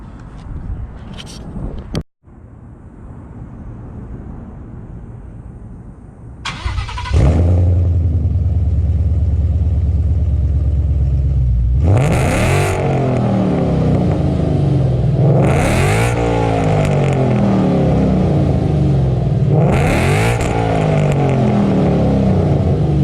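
A modified Ford Mustang GT is started with a brief crank, settles into a loud, throaty idle, then is revved hard three times in succession, each rise and fall clearly audible close up, with no talking.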